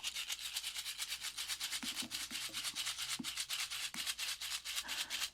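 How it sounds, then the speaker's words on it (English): A stalk crammed with dried autumn seed heads is shaken like a rattle right at the microphone, giving a steady rapid dry rustling hiss with a few faint soft taps underneath. "take a stalk of them, I have a lot crammed in here, then it is like nature's rattle."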